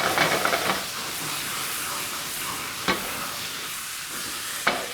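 Beef browning in a pan for stroganoff gives a steady broadband sizzle and frying hiss throughout, with a couple of sharp stirring clicks from utensil against pan.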